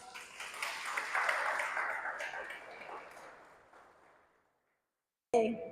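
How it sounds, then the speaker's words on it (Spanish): A church congregation applauds during a worship service, a soft, distant wash of clapping that swells briefly and then thins away into near silence before a sharp sound cuts in at the end. "Fuerte aplauso al Rey."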